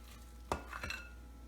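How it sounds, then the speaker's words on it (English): A metal ice cream scoop scraping into a bowl of turkey meatball mixture, a sharp clink of the scoop against the bowl followed by two quick, soft scraping strokes, close and quiet with no talk. "So I'm going to use an ice cream scoop to use it."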